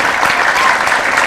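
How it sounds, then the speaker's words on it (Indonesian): Studio audience applauding on an Indonesian television talk show, a dense, steady wash of clapping at close, loud level throughout the short burst. "Kita boleh tepuk tangan untuk Dea"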